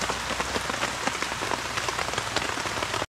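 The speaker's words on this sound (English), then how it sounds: "rain just falling off" Steady rain falls on a wet outdoor camp in the Jamaican countryside, a dense continuous patter with close drops striking surfaces throughout, alone without voices, cutting off abruptly at the end.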